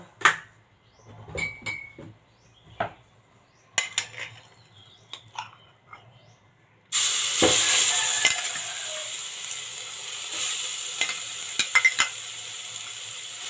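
Curry paste stir-fried in a little hot oil in a pot for Thai fish curry, a loud steady sizzle that starts suddenly after a few quiet clinks and stirring taps, with occasional scrapes over it.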